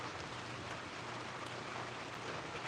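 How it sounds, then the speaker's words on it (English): Steady rain pours down at a Philippine farm, a dense continuous hiss of drops on surfaces that holds level throughout, with no talk or other sounds. "I'm just waiting for this rain to end."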